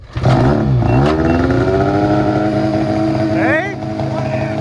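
A snowmobile skimming across water roars loud and close, its engine pitch sliding and rising through revs before easing back, with voices faintly beneath.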